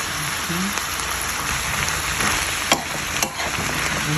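Zucchini sautéing with pork in a pan, a steady dense sizzle and crackle with a few sharp clicks from stirring, close and constant with no voices.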